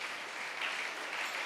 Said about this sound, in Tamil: கரங்களை தட்டி கர்த்தரை ஆரவாரம் பண்ணுங்க.